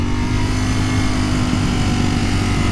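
A Ducati Panigale V4S motorcycle engine drones steadily and loudly while riding in the rain on new tyres, a continuous dense roar with wind noise and no letup.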